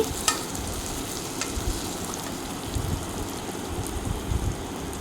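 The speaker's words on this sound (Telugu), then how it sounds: "వేయించాలి క్యారెట్ని అన్నిటినీ స్టవ్ మీడియం ఫ్లేమ్లో పెట్టుకుని వేయించుకోవాలి" Carrots sizzle steadily in a pan over a medium flame while an egg pulao is cooked, a continuous close frying hiss with a few soft stirring scrapes and no talk.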